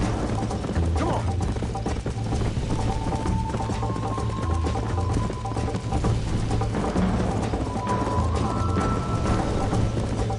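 Steady clip-clop of a galloping horse in Red Dead Redemption, constant rhythmic hoofbeats at close range over a continuous background hum, with occasional brief voices.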